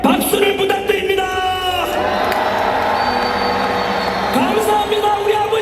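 A large crowd at an outdoor patriotic citizens' protest rally in Gwangju cheers with a sustained roar and shouts, steady and loud throughout.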